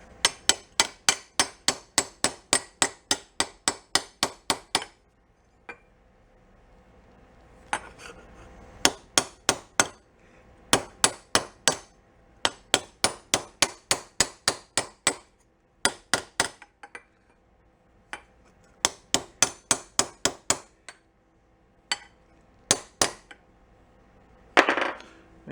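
Metal parts on a Beaver amphibious vehicle are struck with a hammer during brake, exhaust and shifter fabrication, in fast bursts of sharp ringing blows separated by short pauses, loud and close.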